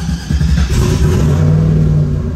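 A car engine in a shop, freshly fitted and awaiting E85 fuel, runs loud and close in a steady, continuous revving drone without any voices.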